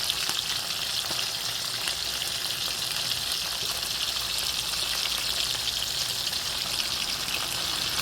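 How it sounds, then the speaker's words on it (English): Sprat fish frying in hot oil for a Jamaican escovitch dish, a dense, even sizzle with scattered pops and crackles running steadily throughout, close and fairly loud. "there they are, guys, frying lovely and nice."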